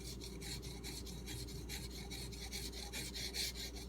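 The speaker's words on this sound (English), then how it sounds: "I'm trying to let the stone do all the work because I want to see how fast it cuts" A knife is sharpened on a Suehiro whetstone with almost no pressure, giving a steady rhythmic rasping of quick strokes back and forth, close and fairly quiet, with no talk.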